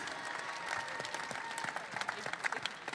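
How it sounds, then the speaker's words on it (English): An audience applauds inside Chase Center, the home arena of the Golden State Warriors, during a postgame panel, giving a sustained spread of many hands clapping at a moderate distance. "Can we get another round of applause for this amazing,"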